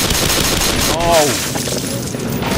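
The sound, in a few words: gunfire from the video game Black Mesa Source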